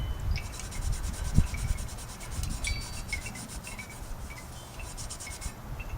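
Steady scraping and rubbing as a woodgas stove is scrubbed, a quiet, close rasping texture with irregular strokes and faint high clicks throughout.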